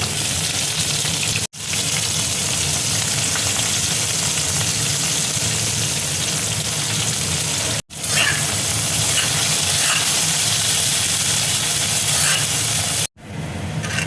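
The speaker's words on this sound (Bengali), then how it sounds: "পেঁয়াজটা দেখো ভাজা হয়ে গেছে" Chopped onion frying loudly in hot oil with bay leaf and whole garam masala, a steady close sizzle broken by a few brief cuts.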